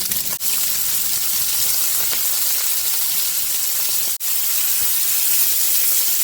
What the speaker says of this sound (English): What we want to do is render the sausage down.